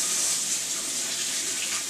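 Warm tap water runs into a sink while dough for homemade wraps is being prepared. The stream gives a steady, close hiss that carries on alone, with no talking.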